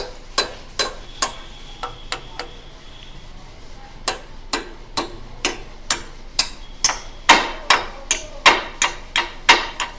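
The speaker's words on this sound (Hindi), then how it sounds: "उसके बाद हथौड़ा लिया और ये हम इसमें ऐसे ही ठोक देते हैं।" A hammer drives a bearing into a truck axle with about twenty sharp, close metallic strikes, irregular at first, then coming faster and louder toward the end, with no voices.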